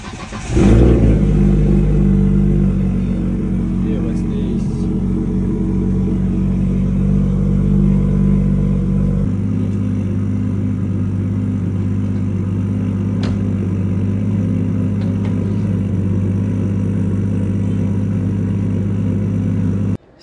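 A Nissan Skyline engine cranks and catches on its first start, flares loudly, then settles into a steady, rumbling idle that holds close and continuous throughout.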